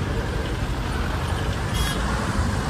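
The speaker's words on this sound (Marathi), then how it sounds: "ट्रॅफिक जाम झालेली आहे इथे." Road traffic noise from a jammed road, with a steady broadband rumble of idling and slowly moving vehicles and nearby motors, continuous and fairly close.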